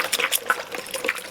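250 grams of water being poured for a poolish pizza dough, a brief close splashing, gurgling pour with uneven bursts and no talk.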